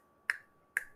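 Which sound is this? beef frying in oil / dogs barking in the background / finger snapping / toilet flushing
finger snapping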